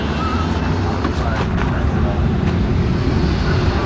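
Steady, loud rotor and engine roar fills the cabin of a helicopter flying over to Catalina, a constant wash of noise with no pauses, and faint voices underneath.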